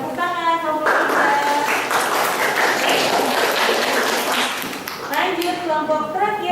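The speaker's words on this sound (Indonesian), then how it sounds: "Tepuk tangan kelompok 3." A group in a classroom-style session claps for group 3, a loud burst of applause that rises and then fades, with voices speaking just before and after it.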